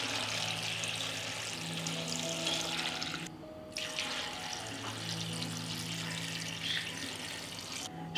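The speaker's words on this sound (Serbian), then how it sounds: "U svaku šerpu dodajem po litar vode." About a litre of water poured into a cooking pot of sour cherries, a steady splashing stream that briefly breaks off midway and then resumes, close and moderately loud.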